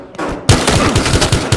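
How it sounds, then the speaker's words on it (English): Gunfire in the video game Battlefield Hardline: a loud burst of rapid automatic shots after a brief quieter start, cracking in a fast uneven rhythm, close and dominant with no talk. "Gunfire reported."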